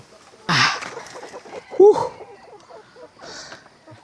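Chickens crammed into delivery crates cluck and squawk in a few short bursts close by, with one louder call in the middle and quiet rustling between.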